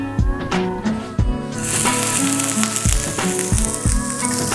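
Sardine grilling in a little oil bursts into a steady bright sizzle partway through, continuing beneath rhythmic background music with thumping beats.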